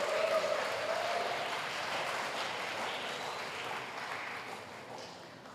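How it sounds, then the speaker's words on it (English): Sustained applause from a lecture audience honouring the speakers and moderator of a university public lecture on engineering innovation, a steady dense patter that fades gradually, with no one talking over it. "let us give a big round of applause for the speakers and moderator of today's public lecture"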